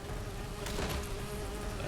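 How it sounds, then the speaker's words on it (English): Honeybees buzzing in the video game Fallout 76, a steady, faint insect drone that runs the whole moment with a brief swell near the middle, heard alone without talk. "Here's the bees. You want to kill these honeybees."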